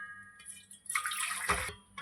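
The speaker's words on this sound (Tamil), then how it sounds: "இப்போ நம்ம கஞ்சிக்கு தேவையான அளவு தண்ணியை சேர்க்க போகிறோம்." Water is poured into a cooking pot on a lit stove for drumstick-leaf rice porridge, a short splashing rush lasting about a second, close and fairly loud, then tapering off.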